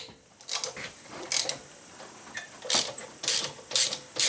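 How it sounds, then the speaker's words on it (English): Crankcase bolts on a 5 HP Briggs engine being loosened with a ratchet, giving short bursts of clicking that come and go at close range. "I'm going to go ahead and start taking these bolts loose."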